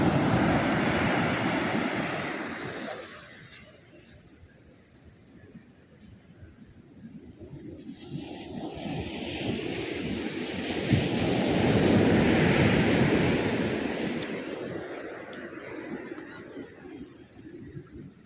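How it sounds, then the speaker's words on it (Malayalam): Morning sea waves crashing on a beach, a loud surging roar that fades into a quieter lull, then builds into another big crash, with wind buffeting the microphone. "കടലമ്മ ഇങ്ങനെ ആർത്ത് ഉല്ലസിച്ച് വരുന്നുണ്ട്"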